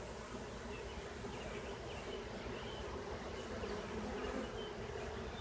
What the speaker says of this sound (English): since this frame got loud and noisy and started fanning